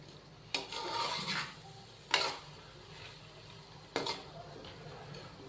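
Potato cubes frying in a pot for aloo pulao, with a soft sizzle throughout and three scraping stirs of a spoon against the pot, near and moderately quiet.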